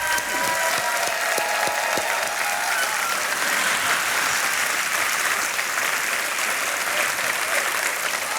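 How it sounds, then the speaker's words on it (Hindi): A TV quiz show studio audience at Kaun Banega Crorepati bursts into sustained, dense applause that stays loud and even throughout, with a few sharp claps at the start. "तालियां बजते रहे इनके लिए।"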